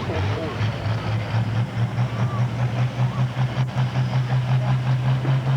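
Pro farm class pulling tractor engine droning loudly at a steady high pitch as the rev limiter holds it back, a pulsing buzz throughout at a tractor pull event, with crowd noise and possible announcer talk underneath.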